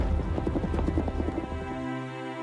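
Horse hooves clattering in a fast galloping rhythm as a sound effect, a dense run of clip-clop beats that fades into a sustained tonal backdrop, with no voices.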